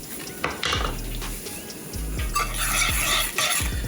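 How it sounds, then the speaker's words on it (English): Sauce for Mongolian beef gets a brisk mix in a bowl, heard as rapid scraping and clinking of a utensil against the container in several close bursts. "Give the sauce a good mix."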